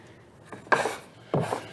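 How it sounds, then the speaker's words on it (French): A Japanese saw cuts through a small leftover piece of wood at a woodworking workshop stand at Maker Faire Paris, giving two short rasping strokes close by, with no talk. "Scie japonaise."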